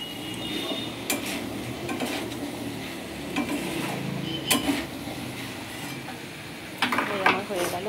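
Soft paneer and peas in a thick curry base are stirred in a pan, producing scattered scrapes and metallic clinks of a spatula over a continuous sizzle, close by and moderately loud.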